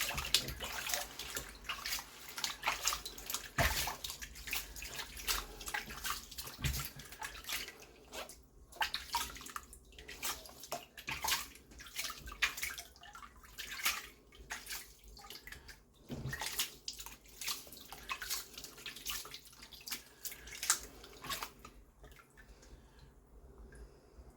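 Water sloshes and splashes in a gold prospecting clean-up pan, a continuous, fairly quiet swirling and trickling that rises and falls in uneven bursts, with no voices.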